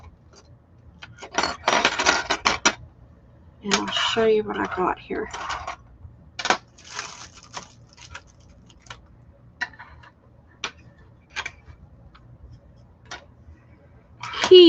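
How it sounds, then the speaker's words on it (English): Vintage metal keys clinking and jangling as a pile is handled, with bursts of metallic rattling between quieter stretches and someone talking over part of it. "Let me do a round of keys. These are all vintage keys."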